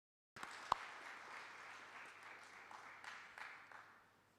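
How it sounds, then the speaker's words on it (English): A room breaks into sustained applause, many hands clapping steadily, swelling slightly then slowly fading over a few seconds. "Can we kindly give another clap for Prof. Majosi?"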